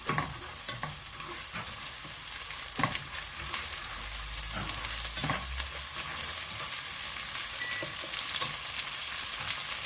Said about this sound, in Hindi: दो मिनट इसको भून देंगे अदरक लहसुन के पेस्ट को भी।